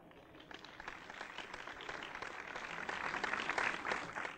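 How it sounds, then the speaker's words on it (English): A crowd applause sound effect plays back in storyboard animation software, a soft, steady wash of many hands clapping that swells slightly toward the end, heard faintly and alone. "here's some applause"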